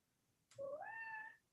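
A single cat meow rises and then holds, clear and fairly close against a quiet room during a meeting.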